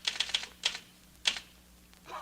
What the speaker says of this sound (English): I'm typing while I'm talking to you